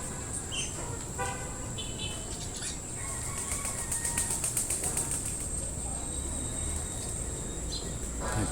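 A small bird flaps its wings near a backyard luffa vine, soft fluttery beats rising midway through, alongside a steady high insect-like whine, distant car horns and faint background voices.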